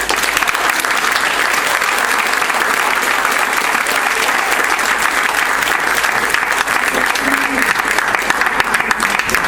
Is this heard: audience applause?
yes